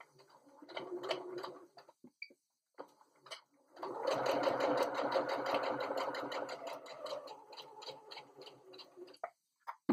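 A sewing machine stitches fabric for a cloth pad wrapper, running in a short burst, pausing, then driving a longer steady whirring run with a rapid mechanical tick, close and fairly loud, with brief stops near the end.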